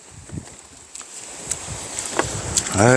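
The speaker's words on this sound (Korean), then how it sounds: "모래가 여기 바람이 많이 불어" Strong gusty wind buffets the microphone at a seaside autumn campsite on the coast, a continuous rushing roar with swelling gusts, while people talk briefly nearby.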